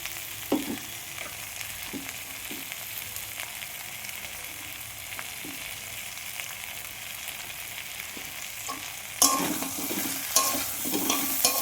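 Ground turmeric, chili and coriander powder fry in a pan as they are stirred, with a soft steady sizzle, scattered scraping clicks, and a louder burst of sizzling near the end.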